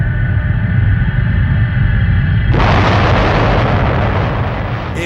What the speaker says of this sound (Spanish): Imaginemos que la explosión de Tunguska hubiese ocurrido en Frankfurt.